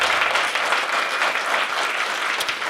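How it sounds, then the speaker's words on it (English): Audience applause at the end of a live dinner show, dense steady clapping from a nearby crowd lasting the whole stretch, loud and continuous with no voices over it. "keep your applause going for your wait staff, Riley and Melissa"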